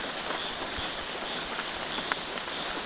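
Rain falling at night during a trip to Nedumangad, an even, close patter of drops on surfaces, steady and moderately loud throughout with occasional sharper taps and no voices.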